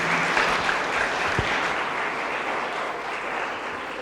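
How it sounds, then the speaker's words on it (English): An audience at a student event gives sustained applause for a speaker, a dense, even roar of clapping from a large crowd that fades slightly toward the end. "A round of applause, please,"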